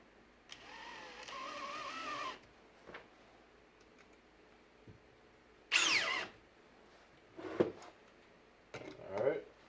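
A Makita 18V sub compact drill driving a longer, larger shank screw, whirring steadily for about two seconds at close range, followed by short bursts of motor and screw noise between stretches of someone talking.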